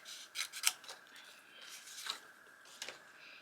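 Scissors snipping through paper for a travel journal, a few quiet close cuts and soft rubbing sounds spread unevenly across a few seconds.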